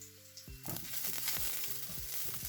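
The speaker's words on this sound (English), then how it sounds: "Now you're going to want to throw in your onions." Onions dropped into hot oil in a pan, a sudden loud sizzle bursting in after a brief quiet moment and then holding as a dense, steady hiss with light crackle, close up.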